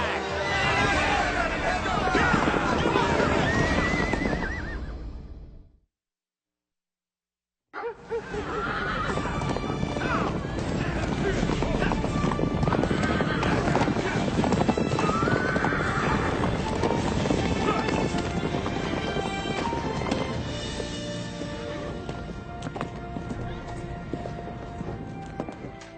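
Several horses neigh and whinny loudly at close range, then their hooves clip-clop and thud as they ride off at a run, with a brief silent gap early on and murmuring voices in the background.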